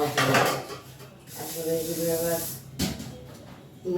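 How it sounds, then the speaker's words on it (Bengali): Food frying in a pan sizzles with bursts of hissing, joined by a couple of metal clinks against the cookware while a person talks over the cooking. "ভেজে নিচ্ছি"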